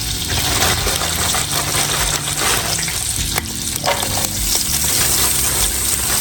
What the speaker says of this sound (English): Let's go ahead and get our green beans in there.